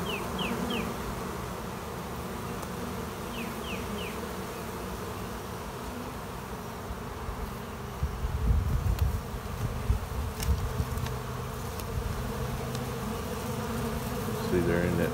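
Dense buzzing of many bees swarming nearby, a continuous hum with individual insects passing close, plus some faint handling noises.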